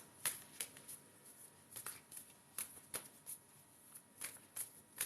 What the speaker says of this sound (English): Okay, so we'll shuffle these moon cards.